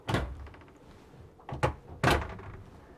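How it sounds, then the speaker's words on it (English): Cabinet doors with stiff magnetic catches aboard a brand-new Sunseeker 88 yacht give three sharp thunks, one early, then two close together near the end, quiet against a faint room hush. "Stiff magnets there on the doors, as she's obviously brand new."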